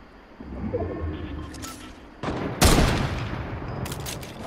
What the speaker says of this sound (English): who the hell is sniping?